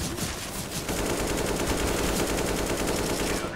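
Sustained AK rifle fire in a video game, a dense continuous burst of rapid shots filling the whole stretch, loud and close with no talk over it.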